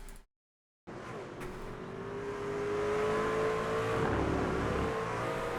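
A race car accelerates hard after a brief silence, its engine note steady and rising in pitch as the revs climb. The sound is loud and continuous and carries on into a crash head-on into a wall.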